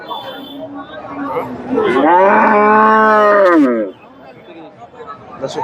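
A Friesian cow at a busy cattle market gives one loud, long moo lasting about two seconds, close by, while people chatter in the background before and after.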